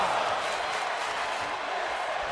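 Crowd cheering in the WWE 2K25 wrestling video game, a steady, wide wash of arena noise that holds at an even level throughout, with a commentator talking over it.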